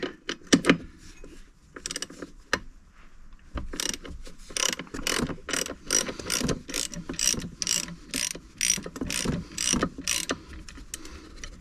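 Ratchet wrench undoing a bolt on a rear bracket of a Piaggio MP3 500 HPE scooter during a rear tyre change, a long run of fast, close metallic clicking strokes with a few louder knocks at the start.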